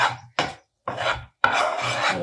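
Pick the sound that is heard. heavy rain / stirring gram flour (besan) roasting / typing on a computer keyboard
stirring gram flour (besan) roasting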